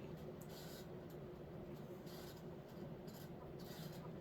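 A Fasco Charleston ceiling fan on a 16-inch down rod running at around 190 RPM, with a slight wobble from misaligned blade irons, giving a steady low whirring hum and airy rush that stays constant throughout.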